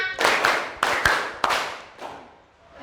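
Children in a classroom clap out a counting rhythm, five sharp group claps in uneven spacing, close and loud, with no voices over them.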